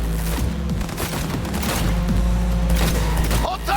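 Gunfire in Cyberpunk 2077 during a car chase, rapid overlapping shots over a loud low engine rumble, close and dense for the whole stretch.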